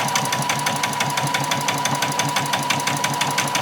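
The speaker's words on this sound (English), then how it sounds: "I'm just going to take it to the machine and I'm just going to stitch really close to the edge of that cord there" A sewing machine stitches close along the edge of an apron cord, running with a fast, even mechanical rattle of needle strokes, close and steady throughout with no pauses.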